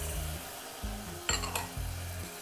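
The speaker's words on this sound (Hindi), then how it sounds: "अब इसमें हम टमाटर का पेस्ट को डाल देते हैं" Tomato paste going into a pan of sizzling rajma masala for a kidney bean curry, with a steady low frying sizzle, a couple of brief scraping stirs near the middle, and no talk.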